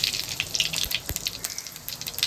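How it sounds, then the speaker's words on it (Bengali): Whole cumin seeds go into hot oil and sizzle with a bright, crackling hiss, a steady close-up fry speckled with small pops for a couple of seconds. "তেলটা গরম হয়ে গেছে, আমি এবার গোটা জিরে দিয়ে দিচ্ছি একটু"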